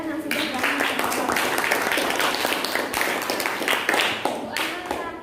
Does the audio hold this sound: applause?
yes